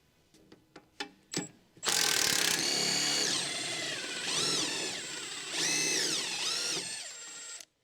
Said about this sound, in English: Use a large 17mm long socket with a power impact wrench to remove the mounting bolt